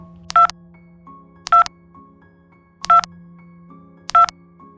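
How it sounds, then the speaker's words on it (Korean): A telephone being dialed, with four separate bursts of keypad tones spaced evenly over a steady low hum, each burst short and clear. "방 교수는 전화기를 집어들고"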